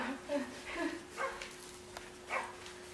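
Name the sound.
dog barking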